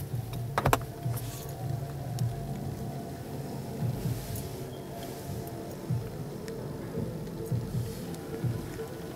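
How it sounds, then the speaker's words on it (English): The panoramic roof motor on a 2017 Hyundai i30 runs as a steady, low electric whir with a faint mechanical hum throughout, heard from inside the car with a brief click near the start. "Panoramic roof."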